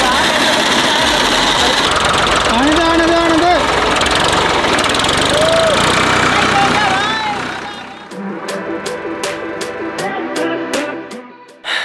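Road roller engine cranking with a key and catching into a loud, steady diesel-like run, with people talking over it; the engine drops off partway through, leaving a quieter idle with sharp rhythmic knocks.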